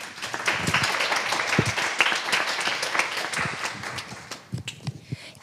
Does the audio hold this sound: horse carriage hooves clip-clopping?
no